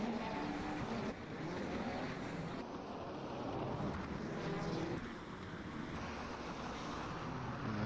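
Race cars from a 1988 Hungarian Grand Prix sim racing game drone steadily, engine tones shifting with gear changes and abrupt cuts between camera views, fairly quiet with no talk.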